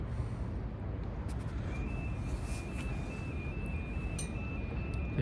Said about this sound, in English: If you can hear that, there's an alarm going off